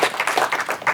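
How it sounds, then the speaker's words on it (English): A short burst of applause from an audience at a startup pitch event after a company's presentation, with clear, fairly close hand claps in a brisk, uneven rhythm for about a second. "Big round of applause for Underground Cellar."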